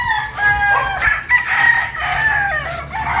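A young gamecock, a stag of about four months, crows at a gamefowl farm, one close, loud, strained crow surrounded by other roosters crowing and clucking nearby.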